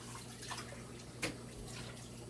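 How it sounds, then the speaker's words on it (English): Beef kidneys are rinsed under a running kitchen tap. A soft, steady trickle of water flows throughout, quiet and close, with one brief splash or clink near the middle. "So right now I'm just rinsing it off."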